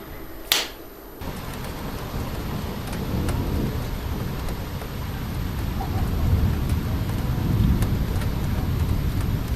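A thunderstorm in summer after a heatwave near Clermont-Ferrand, France: a loud sharp thunder crack at the start, then steady heavy rain and rumbling that builds louder across the rest.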